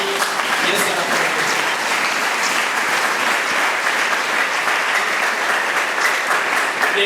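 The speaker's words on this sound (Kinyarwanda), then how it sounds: "Muhe Yesu amashyi" Dense, steady applause from a church congregation honouring Jesus, sustained for about seven seconds with a crowd murmur and voices mixed in.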